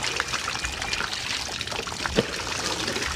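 Water trickles steadily through a regular strainer as microgreen seeds are rinsed, a close, continuous pouring wash with a faint clink midway.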